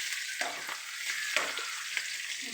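Ginger garlic paste sautéing in a hot pan for fried rice gives a steady, close sizzle, with a few soft scrapes and stirs of a spoon breaking through it.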